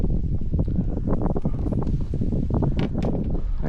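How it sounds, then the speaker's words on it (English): Gusty wind buffets the microphone outdoors during a fishing trip, a steady rough rumble with rustling. "That wind had to pick up"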